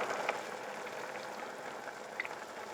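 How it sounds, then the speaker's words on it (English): Soup simmering and reducing in a slightly wobbly pan after a pork roast has been removed, giving a steady soft bubbling hiss with a few small pops, close and fairly quiet throughout. "just want to reduce the soup slightly"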